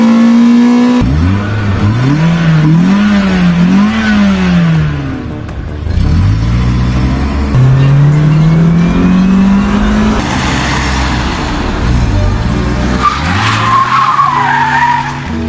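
Toyota Celica GTS in Need for Speed Underground roars at high revs while tires squeal in long, loud skids, the engine pitch climbing and dropping through gear changes with no voices.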